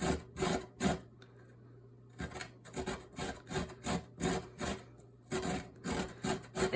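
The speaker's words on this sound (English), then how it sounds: "I find it easier to cut the carrot in half before I start to use a box grater." Raw carrot, cut in half, being grated top-down on a box grater, heard as a series of close, loud rasping strokes in an irregular rhythm with brief pauses, no talking.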